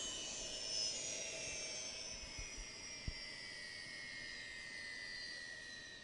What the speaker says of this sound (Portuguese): O helicóptero vai parando agora, desligando já o seu motor